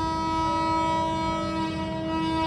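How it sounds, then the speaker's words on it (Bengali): A Humsafar Express train departs New Jalpaiguri station, sounding a steady, loud, sustained horn chord over the low rumble of rolling cars, heard close and continuous with no speech. "তো তোমরা দেখতে পাচ্ছ নিউ জলপাইগুড়ি থেকে আমাদের ট্রেন ছেড়ে দিল।"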